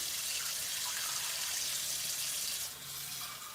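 Water from a kitchen tap runs steadily over fruits and vegetables being rinsed, a continuous hissing splash that drops slightly in level near the end, heard with no talking.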